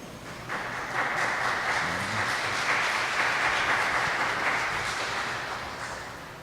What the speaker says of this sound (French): j'espère que vous allez applaudir à nouveau avec beaucoup plus d'entrain et de brio